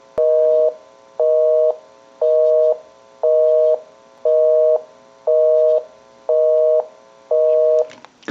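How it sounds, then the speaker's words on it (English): A Western Electric Princess rotary desk telephone gives a busy signal: eight evenly spaced tone bursts pulsing on and off about once a second, clear and close, ending with a clatter. "We'll call my number, and it'll be busy."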